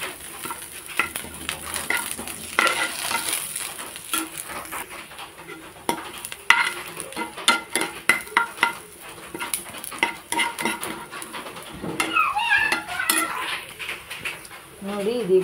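Curry leaves fry with chicken in a pan for Halli-style chicken sukka, a low sizzle under repeated clanking of a metal spoon against the pan and clattering utensils, with brief bursts of louder spattering.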